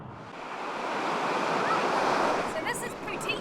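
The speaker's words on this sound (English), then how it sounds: "Wave's coming. Okay, here we go, wave." Ocean surf breaks on a shore where a stranded dolphin is being helped, a broad roaring wash that swells and holds close and loud, with faint higher splashes near the end.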